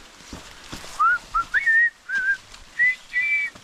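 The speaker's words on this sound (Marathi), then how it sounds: "एक पक्षी आहे तो आहे ना, बरोबर आपण शिट्टी मारतो ना जशी, तसा आवाज काढतोय" A bird on a fort hillside whistles clear, human-like notes, a series of about six short, rising and level whistles spaced by brief pauses, fairly close and loud over quiet outdoor background.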